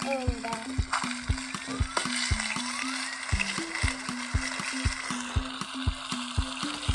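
Noodles sizzle and bubble in a pan in the video game Toca Kitchen 2, a steady frying hiss punctuated by regular rhythmic pops and stirring clicks, close and fairly loud, with no talk over it.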